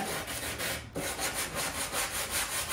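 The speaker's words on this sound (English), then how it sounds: "I just sanded the front side, and then I flipped it over and I did the back side" A sanding block is rubbed by hand over a wavy wooden shelf piece in steady, rhythmic back-and-forth strokes, close and even, with a brief pause partway through.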